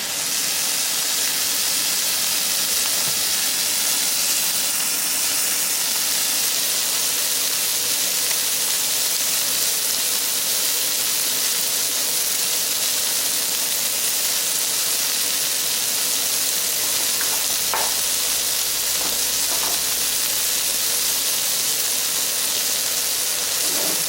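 Gnocchi frying in olive oil in a skillet at an outdoor camp cookout makes a loud, unbroken hiss and sizzle that holds steady for over twenty seconds, with faint pops near the end.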